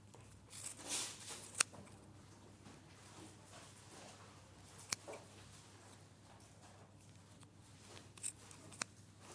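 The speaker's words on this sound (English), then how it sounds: "So you're just snipping round." Small sharp scissors snip around pieces of wool at a sewing table, giving faint, scattered crisp cuts with quiet pauses in between.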